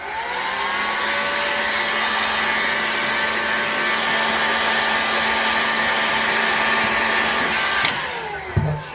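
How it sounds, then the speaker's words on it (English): Heat gun blowing hot air onto the crankcase of a Magnum XL108 model engine, a steady loud whirring hiss that runs nearly nine seconds before cutting off, followed by a few faint clunks. "now it's just time to heat this crankcase up a little bit"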